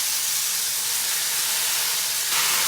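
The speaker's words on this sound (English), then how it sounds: "All right, so get our beef added in there." Beef sizzling loudly as it reheats in a hot wok, a steady, dense hiss that holds without a break and swells slightly toward the end.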